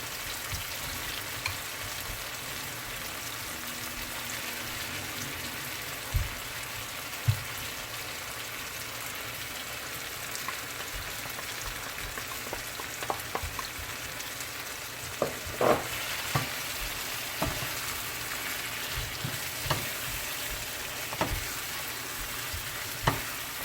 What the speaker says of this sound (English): I'm gonna go ahead and add my shrimp.